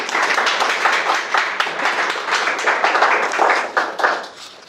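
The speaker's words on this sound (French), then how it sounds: "Donc applaudissez pour le nouveau millionnaire" Audience clapping and applause for a new millionaire at a French recruitment gathering, a steady dense patter of many hands lasting several seconds before tapering off at the end.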